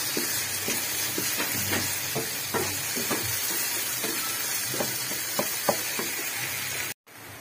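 Potatoes fry in a pan for a simple torta with a steady, close sizzle and hiss, broken by occasional soft stirring scrapes before a brief cut near the end.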